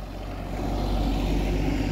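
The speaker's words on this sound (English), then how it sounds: "Bus coming, car coming." A bus and a car passing on a street outside an Anglican church in Pitsmoor, Sheffield, producing a deep engine rumble that swells as the vehicles approach and stays loud to the end.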